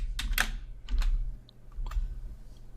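Keys tapped on a computer keyboard while a SQL select query is typed, several distinct clicks in quick irregular bursts at close range over a quiet room hum, no talk.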